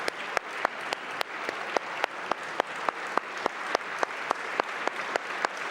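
Members of parliament applauding the outgoing defence minister, a sustained wash of clapping punctuated by regular sharp, rhythmic claps, steady and moderately distant throughout.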